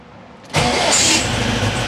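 An air-cooled VW engine cranks briefly and catches, settling into a loud, steady idle close by with no talking.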